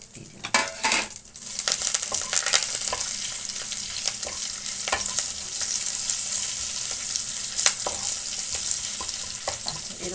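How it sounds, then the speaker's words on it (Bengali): Spices for a tadka sizzle in hot oil on a gas stove, a steady crackling fry broken by sharp clinks of a spoon stirring against the pan, close and with no voices. "এবার আমি এক এক করে এইগুলো দিয়ে ওই তড়কাটা আমি রেডি করে রাখছি"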